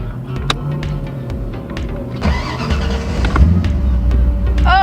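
A car named Modena cranks over and fires up, the engine settling into a steady, loud idle with a few revs rising near the end, heard up close.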